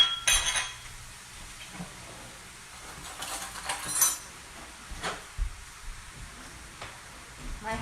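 A metal whisk clinks against a pot while pomegranate juice is mixed: scattered light taps and rattles over a quiet room background.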